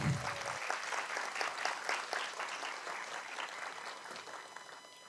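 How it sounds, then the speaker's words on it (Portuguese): Audience applause after relics of Saint Pio of Pietrelcina and three women are introduced at a religious course opening, steady dense clapping from a seated group that slowly thins toward the end. "Palmas para eles."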